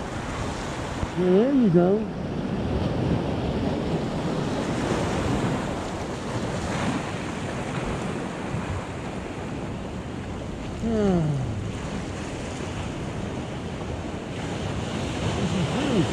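Ocean waves washing onto a beach and drawing back down the shore as backwash, a continuous rushing surf with gusty wind noise. A voice speaks briefly over it.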